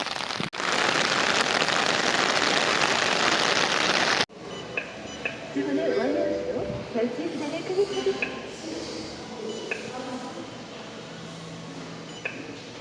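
Heavy rain pours down in a dense, loud downpour for the first few seconds, then gives way to softer outdoor ambience with scattered sounds and faint voices.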